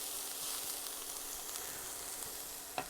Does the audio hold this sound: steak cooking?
yes